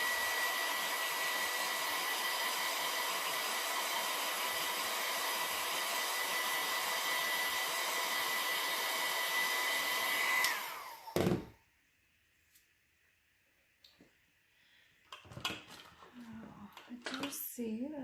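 A hair dryer blows steadily at close range for about ten seconds while drying a peeled postmark, then cuts off, leaving near silence broken by a few faint handling noises and a brief voice.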